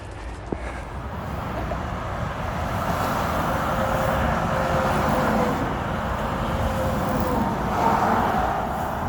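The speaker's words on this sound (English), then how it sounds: "there's a lot of traffic, a lot of trucks, and rail cars" Steady road traffic with passing trucks near a rail line, a continuous broadband rumble and hiss that swells and eases over several seconds, with no voices.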